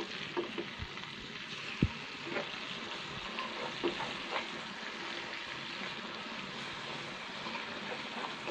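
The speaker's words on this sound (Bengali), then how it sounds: "এই যে আমার মাছ ভাজা" Fish frying in a pan: a soft, constant hiss of hot oil with a few faint knocks and stirs, fairly quiet and without talk throughout.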